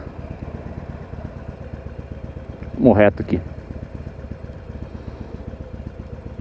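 Harley-Davidson 883R motorcycle engine rumbling steadily while riding, a low continuous drone with a brief louder burst midway, under a man's speech.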